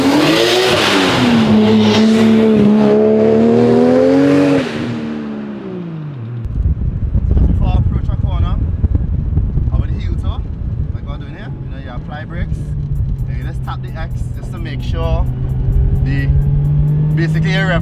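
A car engine revs and blips during heel-toe downshifts, rising and falling loudly up close with cabin rumble and a steady drone, while a person talks over it.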